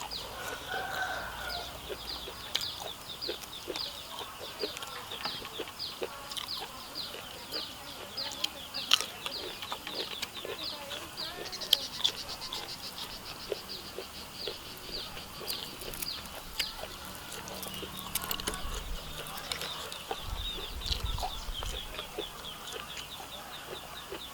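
Chickens cluck and a rooster crows nearby outdoors, a steady scatter of short calls throughout, with people talking in the background.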